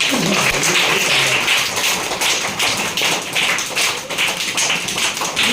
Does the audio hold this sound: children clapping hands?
yes